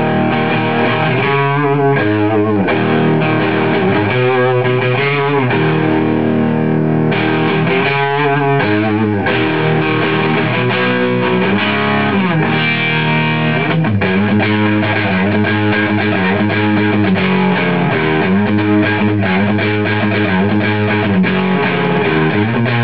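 A Gibson Les Paul electric guitar with Fralin humbuckers plays heavily distorted chords and riffs through a Landry LS100 set for a plexi-style tone with the mids turned up. The tone is loud and sustained, with rhythmic chugging phrases and no talk.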